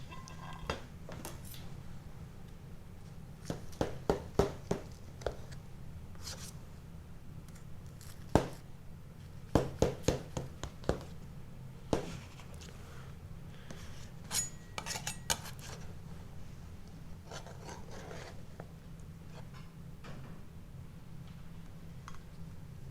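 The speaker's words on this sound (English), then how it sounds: "What I'll do, we'll just chop it up." A knife chopping through baked timpana in its dish, a series of sharp scattered clicks and scrapes against the dish over a quiet background, fairly close.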